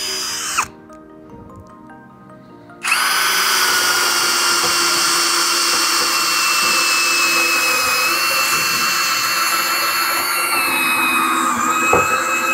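An HL Premier 818 cordless brushless drill, a heavy-duty model, whirs briefly and then runs steadily at high speed for about ten seconds. The whine is loud, close and continuous.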